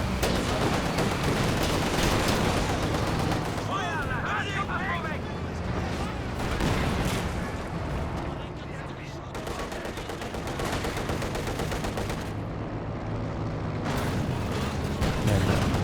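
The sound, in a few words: artillery barrage in Company of Heroes 2 video game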